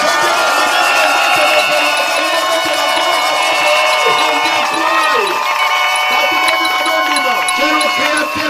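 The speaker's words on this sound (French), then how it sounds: "applaudissez au Seigneur" A church congregation claps and cheers in praise of the Lord, a dense, loud, continuous wash of applause and voices that holds steady throughout.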